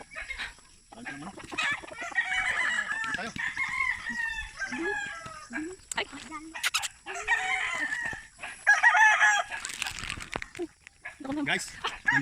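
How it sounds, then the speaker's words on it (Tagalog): Farm chickens and roosters in the rural Bicol province: repeated crowing and clucking rises close by, mixed with scattered hen calls, while people talk intermittently over the birds. "Alaga ng manok."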